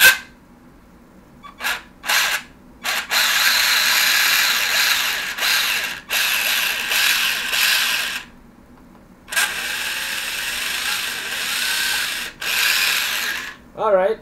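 An RC car motor in a rebuilt s912 Luctan buggy whines loudly in several sustained bursts of a few seconds each, split by short pauses and quick blips, close and harsh throughout.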